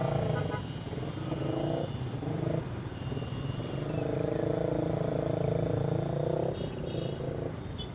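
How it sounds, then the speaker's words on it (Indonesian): A motorcycle fitted with a Pro Speed Black Series exhaust rumbles during a daily city commute, giving a steady deep engine drone that rises and eases with the throttle. "Kalau cuman kita mulai buka gasnya, ngebassnya udah bisa mulai kedengeran gitu ya."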